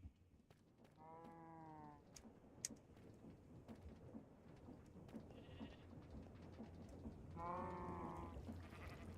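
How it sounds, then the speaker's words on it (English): Two drawn-out cow moos, one early and one near the end, sound faintly at a distance over a steady low ambient hum and scattered small clicks. "It sounds like there's cows hiding down here somewhere as well."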